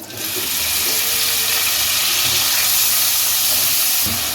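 A medium onion, chopped, goes into hot oil for an aloo katliyan sabzi and sizzles with a loud, steady hiss that starts almost at once and holds through to the end.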